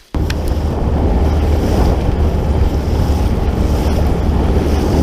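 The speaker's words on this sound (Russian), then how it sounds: "Смотри, какая волна там вообще." Large waves on the water near the shore on an autumn day, with loud, continuous wind-blown surf and heavy wind buffeting close to the microphone.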